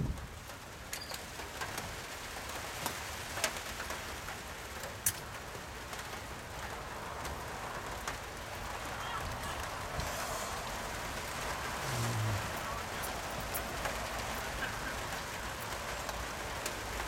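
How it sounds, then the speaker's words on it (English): Steady rain falls outdoors at a golf croquet final in New Zealand, a continuous broadband patter spread across the whole stretch, with faint bird calls and a few sharper drips or taps rising here and there. "I have to find another spot where the rain cannot reach me"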